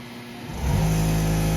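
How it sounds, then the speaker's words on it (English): An air compressor powered by EG4 batteries through a Victron system kicks on partway through, its motor rising quickly from a quiet background into a loud, steady humming drone. "and start the compressor"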